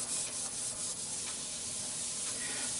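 Paper towel rubbing finish onto spalted hackberry spinning on a lathe at slow speed, a steady close hissing friction over a faint motor hum, with no talk.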